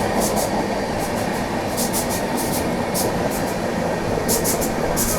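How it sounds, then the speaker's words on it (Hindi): The Prayagraj Express runs past on an Indian main line, a continuous loud roaring rush of wheels and wind with rhythmic bursts of high clatter and no voices. "वो प्रयागराज एक्सप्रेस गई है।"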